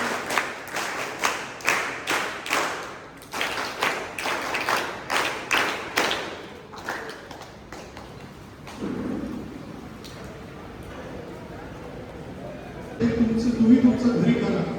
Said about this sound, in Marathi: सर्वांनी टाळ्या वाजवून या आपल्या लाडक्या मॅडमचं स्वागत करूया